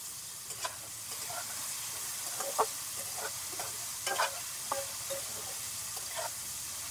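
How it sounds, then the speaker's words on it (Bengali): Chopped vegetables fry with a steady soft sizzle in a pan while cooking for semolina upma, with scattered scraping and stirring clicks from a spatula throughout. "এখন সবজিগুলোকে ভেজে নেব।"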